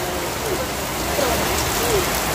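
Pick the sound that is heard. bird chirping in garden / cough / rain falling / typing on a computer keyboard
rain falling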